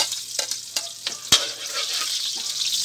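Garlic sautéing in a pan crackles with a bright, steady sizzle, broken by several sharp utensil taps and knocks, close and moderately loud, with no talking.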